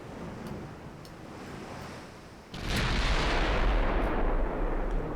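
Naval gunfire from the warship game Ultimate Admiral Dreadnoughts with super long guns: a low rumbling sea-like wash, then a sudden heavy boom that swells into a loud, sustained roar for the rest of the moment.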